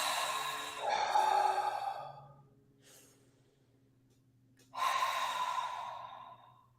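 Two long, breathy exhales, the Darth Vader breath done as if fogging a mirror, each a drawn-out husky whoosh with a quiet pause between, close and alone.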